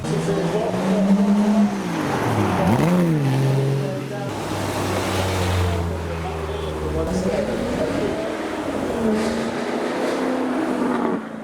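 An Aston Martin V8 Vantage sports car engine drones and revs with rising and falling pitch, passing nearby over steady outdoor noise.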